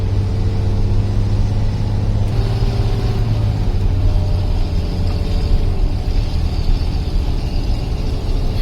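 Steady low engine drone of a bus driving along a hilly road, loud and continuous throughout with road and wind noise layered on top.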